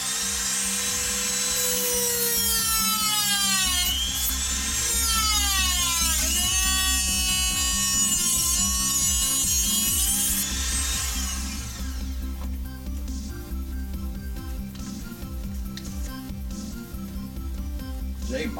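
A Dremel rotary tool cutting open a letter, a high whining buzz whose pitch sweeps up and down as it bites, loud and close, then easing into a lower steady hum.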